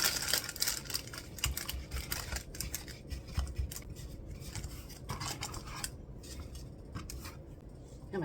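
Repeated scissor snips trimming moss and other craft materials for a Dollar Tree Easter centerpiece, a steady run of close, crisp cuts with faint rustling between them and no talking.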